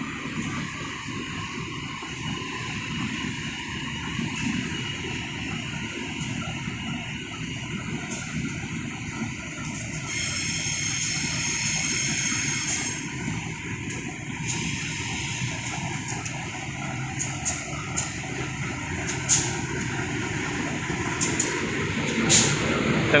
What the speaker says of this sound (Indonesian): Dengan lokomotif CC 201 masuk stasiun Pasar Senen.